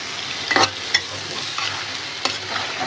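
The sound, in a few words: stirring fish being sautéed in a pan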